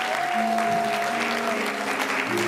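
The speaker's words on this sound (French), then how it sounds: "Une bonne main d'applaudissement pour son enseignement d'hier." Applause from a church congregation at an ordination service: steady clapping from a crowd, with a faint sustained tone and a voice murmuring beneath it.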